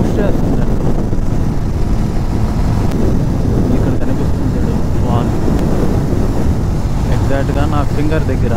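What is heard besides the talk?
strong wind blowing during motorbike ride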